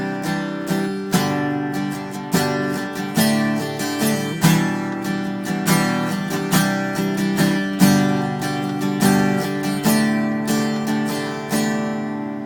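Acoustic guitar strumming the chorus introduction chords of the worship song Glory To God Forever, with steady, evenly spaced strums about once a second, played alone and close with no voice.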